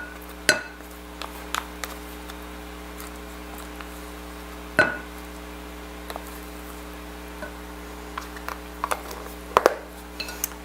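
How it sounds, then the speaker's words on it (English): Thick French onion dip folded by hand into biscuit baking mix in a bowl: quiet soft scraping with a few sharp clinks of a spoon against the dish at intervals over a low steady hum, no talking. "we're going to gently stir in the 8 ounces of French onion dip"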